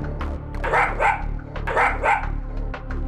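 A small female dog barks at a stranger approaching her and her owner, a few loud yips and barks in two bursts over a steady background hum.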